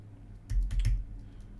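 A text prompt being typed on a computer keyboard, a quick cluster of a few close key clicks in the middle of an otherwise quiet stretch.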